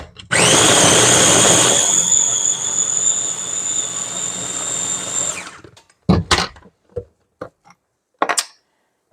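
A blender chops garlic and onion for homemade salsa made with canned tomatoes, whirring loudly and steadily for about five seconds before cutting off, followed by a few scattered knocks and clunks.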